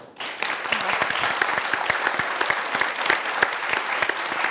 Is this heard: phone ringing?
no